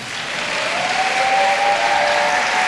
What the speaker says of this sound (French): Acclamons les sœurs intercesseuses.